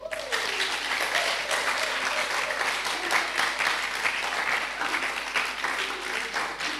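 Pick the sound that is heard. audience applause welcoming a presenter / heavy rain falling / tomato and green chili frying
audience applause welcoming a presenter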